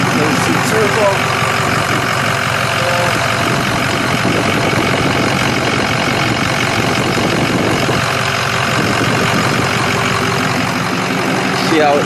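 A Ford 6.0L Powerstroke truck engine fitted with a KC turbo idles steadily up close, a continuous rumble with a faint turbo whistle, while someone speaks over it.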